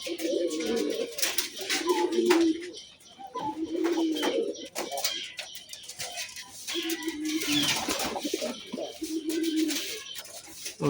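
Pigeons coo repeatedly in soft, low, rhythmic phrases, with rustling and clatter around them at moderate distance.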